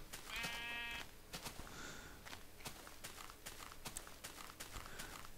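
A Minecraft sheep bleats with a wavering, buzzy tone for about a second near the start, followed by soft footstep-like taps and faint game noise.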